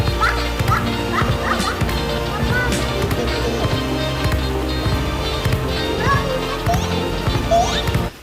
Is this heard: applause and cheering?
no